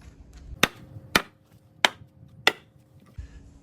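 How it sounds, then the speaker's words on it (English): Four sharp hammer blows strike wood, evenly spaced and loud, each a crisp thwack in an otherwise quiet space. "just grab a chunk of wood and smack it with a hammer"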